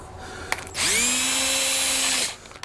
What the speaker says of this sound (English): the gel coat can crack and peel off pretty good when you're drilling with a hole saw